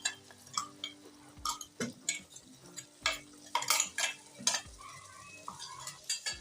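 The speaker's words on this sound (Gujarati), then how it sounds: "આપણે આદુ મરચી અને ટમેટાની જે ગ્રેવી નાખી છે બધું સરસ રીતના મિક્સ કરી લેશું" Ginger-chili paste and tomato gravy stirred in a pan for a Kathiyawadi whole-onion curry: repeated spoon scrapes and clinks against the pan over a light, soft sizzle.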